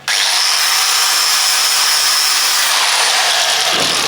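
A grinder bites into a cast steam engine rod piece with a loud, sustained high whine and rasp that starts abruptly and holds steady for several seconds.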